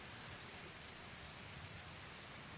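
Faint, continuous rain hisses as stormy ambience during a tabletop role-playing session, a soft even wash of sound with no voices over it.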